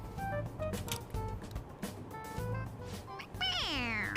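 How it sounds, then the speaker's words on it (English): A stuffed toy cat in Persona 5 Royal meows when its head is pressed, giving several repeated short meows with a longer, sliding meow near the end, amid game music and voices. "It meows when you press on its head."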